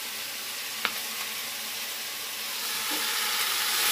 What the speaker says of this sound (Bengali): সবজিটা একটু কষাকষি করি